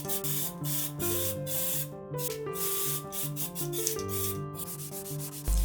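A primer-coated porcelain doll part is sanded smooth by hand, giving soft, continuous rhythmic rubbing strokes under a quiet musical background, fairly faint and close.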